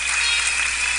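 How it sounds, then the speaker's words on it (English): An audience at a radio or TV street program breaks into a dense, continuous wash of applause, loud and steady throughout with no voices over it. "Give him a round of applause, Derek Walcott."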